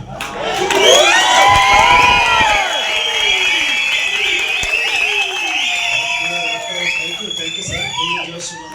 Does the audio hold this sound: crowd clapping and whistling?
yes